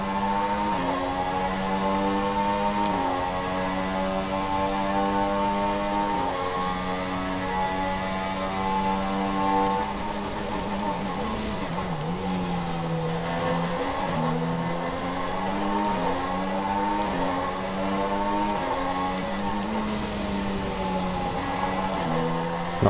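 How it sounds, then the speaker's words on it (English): Renault Formula 1 car engine in the F1 2016 racing game, a loud high-pitched continuous whine that rises and falls through gear changes, with surging blips on the downshifts. "Nice surging noise on the downshift."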